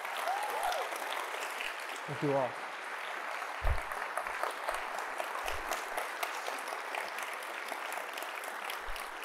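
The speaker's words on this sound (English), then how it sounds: "can we please have a proper round of applause for these musicians?" Steady, dense applause from an audience honoring musicians continues for the whole stretch, with a voice briefly speaking over the clapping near the start.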